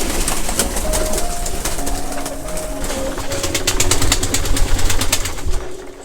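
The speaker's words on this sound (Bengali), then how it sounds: "বর্তমানে আমি এখন আছি একটা কবুতরের খামারে আর এই খামারে দেশি কবুতরের পাশাপাশি বেশ কিছু ফেন্সি কবুতরের আইটেম রয়েছে" Local and fancy pigeons at a pigeon farm coo continuously, a dense, loud, overlapping chorus of low rolling coos close by, with occasional wing flutters.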